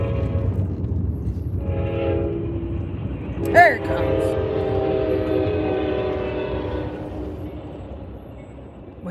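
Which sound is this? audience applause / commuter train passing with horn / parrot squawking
commuter train passing with horn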